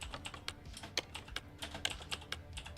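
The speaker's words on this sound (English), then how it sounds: "It's a real satisfying click sound to these keys." Mechanical computer keyboard keys clicking in quick irregular bursts of sharp, crisp taps, close and fairly quiet, with no voice over them.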